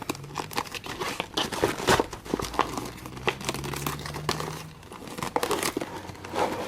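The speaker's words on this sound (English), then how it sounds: "So if you want to get this more boxy shaping, then you can fold the sides down" Cardboard Priority Mail envelope being folded at the sides into a box shape, a close stream of crinkling, creasing and crunching cardboard with rhythmic pressing sounds throughout.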